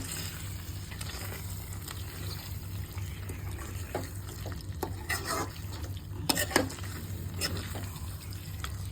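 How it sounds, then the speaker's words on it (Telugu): Chicken pieces stirred into spiced masala oil in a home kitchen pan, with steady sizzling and scraping stir strokes, a low hum underneath and a few sharper clinks of the spoon against the pan. "ఇందులో చికెన్ వేసాను, కలుపుతున్నా."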